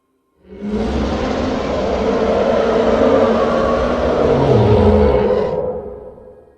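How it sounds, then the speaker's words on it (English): A long, deep Reaper Leviathan roar from the video game Subnautica swells and rumbles for several seconds, loud and growling with a gritty texture, then cuts off. "That is the sound of a Reaper Leviathan looking for its next meal."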